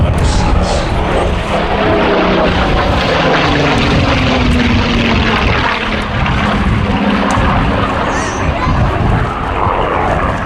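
Supermarine Spitfire with a 35-litre Rolls-Royce engine flying at the Midlands Air Festival, a loud, steady propeller drone holding throughout with a slowly shifting pitch.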